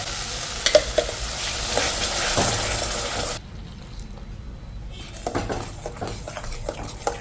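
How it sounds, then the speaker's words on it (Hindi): Masala paste with turmeric, cumin and coriander fries in a pan, sizzling loudly under the scrape and clink of a stirring spoon, then turning quieter for a moment before stirring and light sizzle resume. "हमारा जो मसाला है वो अच्छे से फ्राई हो गया है।"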